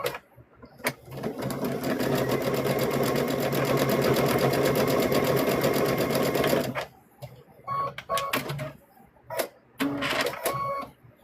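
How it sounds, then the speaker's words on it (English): A sewing machine stitches across the top of a stuffed bear's foot in one long, steady, close burst, then stops into short bursts of handling and a few brief stitches. "So now what we're going to do is we're going to stitch across the top right here."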